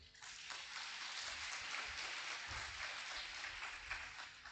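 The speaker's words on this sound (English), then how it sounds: "A big round of applause once again." An audience at a university smart lab and robotics project launch gives a round of applause, a steady, fairly faint wash of clapping heard from a distance with some low room rumble beneath.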